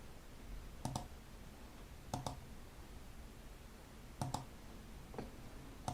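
Mouse clicks in a quiet room, heard as a few sharp double clicks spread over several seconds, close and fairly faint against low background hiss.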